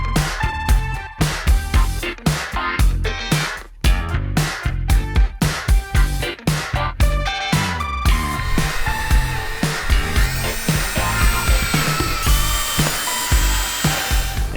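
A power drill drives screws while an RV roof hatch is installed, its motor whirring in repeated short bursts with brief stops, then settling into longer, steadier running, loud and close.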